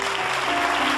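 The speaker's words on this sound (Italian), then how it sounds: "Eccoli, facciamoci l'applauso, bravi!" A studio audience on an Italian television variety show applauds the vocal group Seven Hills, a dense burst of clapping filling the whole moment, close and loud.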